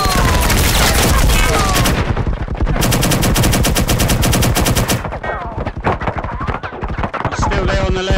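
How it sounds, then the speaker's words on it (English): Dense rapid gunfire from the VR shooter Hotel Crossfire, with loud machine-gun bursts and rattling volleys almost without pause, with faint voices underneath. "firing at me"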